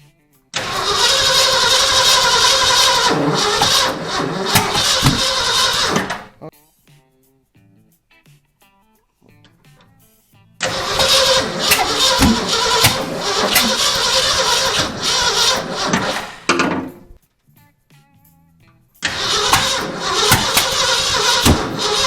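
A 1979 Ford F350 that has sat unused for 15 years cranks and catches in three long, loud bursts of engine noise. Quiet gaps separate the attempts.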